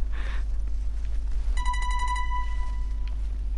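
A telephone rings with a short electronic trilling burst, then a sustained tone that stops abruptly, all over a low steady background hum.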